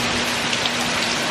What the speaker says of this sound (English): This rain is way worse.